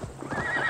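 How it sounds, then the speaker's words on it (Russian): A horse in the video game Assassin's Creed Valhalla gives a short, close whinny, with hoof clip-clops and soft game background noise underneath. "Вот вам кони, второй раз уже подскакали."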